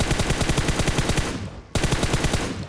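Rapid automatic gunfire from a player in PUBG firing at a buggy: a loud, fast stream of shots that breaks off briefly midway, then resumes just as densely.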